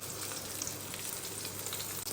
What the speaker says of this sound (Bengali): মাছগুলো ভেজে নিলাম